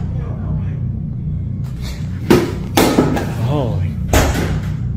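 Several heavy thuds of a door slamming shut in an office, three sharp bangs spread over a few seconds with a low hum between them.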